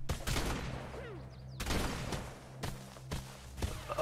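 Gunfire in the survival game ARK on a lava-cave island base: several loud, sharp blasts strike at intervals, each with a hard onset and short decay over constant game ambience, with no talk alongside.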